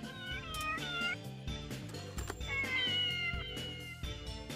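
Cat meowing in the Persona 2: Innocent Sin video game, a few drawn-out rising and falling meows, close and clear over a game music backing.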